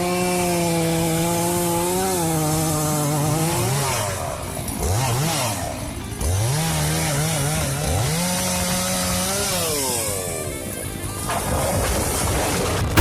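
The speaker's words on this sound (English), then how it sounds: "Thanks to the chainsaw's efficiency and power, he can work efficiently and quickly, cutting down trees and clearing small forests with ease" Chainsaws felling trees and clearing small forest roar loudly and continuously nearby, the engine pitch rising and falling as the chain bites and revs between cuts.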